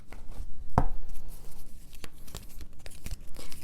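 Tarot cards riffle and slap softly as a deck is shuffled by hand, one sharp snap followed by quieter rustling flicks, close and alone.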